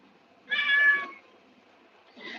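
A ragdoll cat meows during grooming, one loud drawn-out meow followed after a pause by the start of a second, close and clear in a quiet room.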